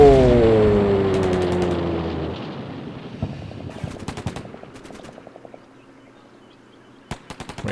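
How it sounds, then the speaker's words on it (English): Tank machine gun fire in the war game Combat Mission Black Sea, bursts of rapid rattling shots after a fading engine drone, with scattered distant impacts and a sharp final burst. "Yeah, they're shooting at it with machine guns."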